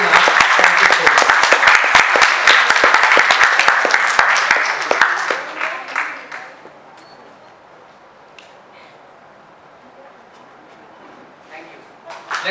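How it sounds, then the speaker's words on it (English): An audience at a Founder's Day celebration applauds in a dense, loud burst of clapping that thins out and fades after about six seconds, leaving near quiet with a few scattered claps and a brief return at the end. "Big round of applause for these people."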